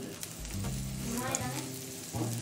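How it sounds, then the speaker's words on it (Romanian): Meat wrapped in prosciutto fries prosciutto-side down in a very hot pan, giving a steady, close crackling sizzle throughout with a low voice faintly underneath. "o punem cu prosciutto în jos la prăjit. Pe tigaia foarte încinsă."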